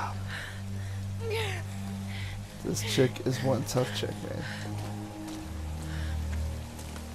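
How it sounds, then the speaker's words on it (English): Rain falling in the video game Tomb Raider (2013), a soft steady patter beneath someone talking, with louder in-game sounds briefly cutting through in the middle. "at least the rain's getting all the blood off me"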